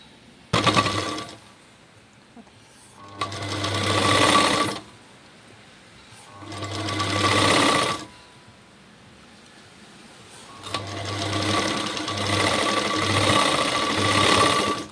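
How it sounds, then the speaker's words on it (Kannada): Sewing machine stitching blouse sleeves, running in four separate bursts of steady motor whir and needle clatter, separated by short quiet pauses, close and alone without talk. "ಈ ಬಟ್ಟೆ ಮೇಲೆ, ಈ ಹೊಲಿಗೆ ಮೇಲೆ ಇನ್ನೂ ಒಂದು ಹೊಲಿಗೆ ಹಾಕೋಬೇಕು ನಾವು ಸ್ಲೀವ್ಸಿಗೆ."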